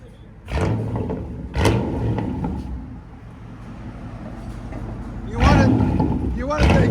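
A straight-piped 1999 Chevy Tahoe with a 5.7L V8 revs loudly nearby in repeated bursts, its deep exhaust roar swelling and falling, with voices talking over the engine noise.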